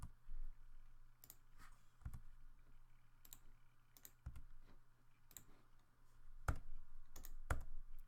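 Computer keyboard keys are pressed while deleting a cube in Blender, a sparse series of quiet, close clicks and taps at irregular intervals over faint background hum.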